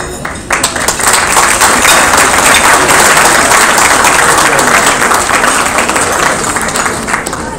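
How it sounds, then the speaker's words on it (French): A large audience at an iftar gathering breaks into loud, sustained applause, a dense wash of clapping that swells in after a brief pause and holds steady before easing slightly at the end. "Je vous demande de commencer par des applaudissements"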